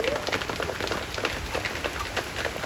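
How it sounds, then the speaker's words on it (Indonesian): Rain falls outdoors at night during a busy gathering in Cepu, a soft, steady patter of drops on surfaces at moderate distance, dense and continuous with faint crowd noise beneath. "Hujan."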